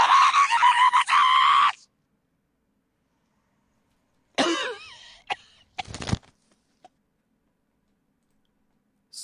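A man screams in a recording bought on Fiverr: a loud, strained cry at the start, then silence, followed by ragged gasping and coughing yells and a few short clicks.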